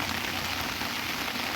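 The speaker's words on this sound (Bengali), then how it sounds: "সকাল থেকে যে মুষলধারে বৃষ্টি পড়ছে" Heavy downpour pouring steadily in the Topkhana area of the city, a dense, unbroken hiss of rain hitting surfaces, loud and close with no voices.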